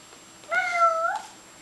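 A young child imitates a cat's meow with a single drawn-out, rising-and-falling "meow" lasting about half a second, clear and close in an otherwise quiet room.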